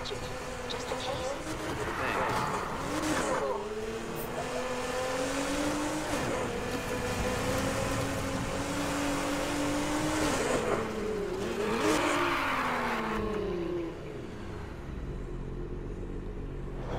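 A fully built Aston Martin races at over 200 miles per hour in NFS Heat, its engine droning loud and steady with rising and falling pitch through gear shifts and occasional tire noise. Someone talks over it.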